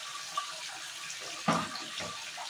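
A cup of water splashes into a pan of fish curry seasoned with garlic and ginger paste, a short close burst of pouring and sloshing amid faint kitchen background noise.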